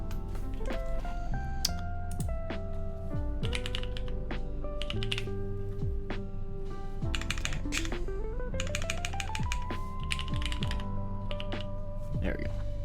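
Rapid, continuous keystrokes clatter on a computer keyboard at close range, with irregular bursts of clicks and steady background music beneath.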